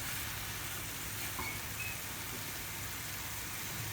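Aloo tikki burger vegetables sauté in a pan with sauces, giving a steady, faint sizzling hiss that stays even throughout with no talking.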